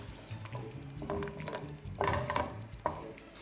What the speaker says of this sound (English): Scrape off all of these bits.